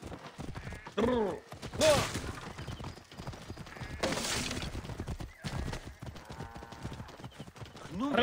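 A horse in a video game gallops with rapid clip-clopping hooves and lets out loud whinnies, while voices shout over the hoofbeats.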